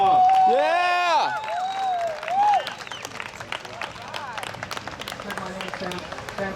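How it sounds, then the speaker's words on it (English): A crowd at an Albuquerque police whistle-blower protest breaks into applause and cheering, with a loud shout at the start and scattered sharp claps continuing underneath as a speaker is welcomed. "A big round of applause."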